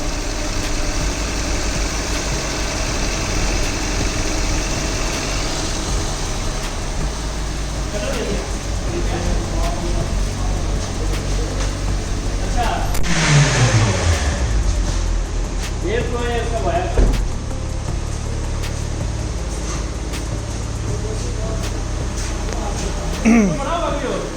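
A Suzuki Baleno fitted with a Toyota Axio engine runs with a steady idle hum and rough, uneven engine noise, and a brief rev rises and falls partway through. Voices talk nearby over it.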